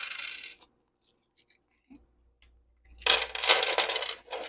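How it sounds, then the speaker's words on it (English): Quarters are dropped into a cash envelope: a short metallic jingle, a quiet stretch with a few faint ticks, then a longer, louder burst of clinking coins tumbling together. "I'm going to add in my quarters first"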